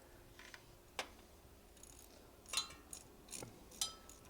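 A socket wrench loosens bolts on a 1943 Willys jeep during starter and generator removal, giving sharp, quiet metallic ratchet clicks and clinks in short, irregular bursts against a faint hum.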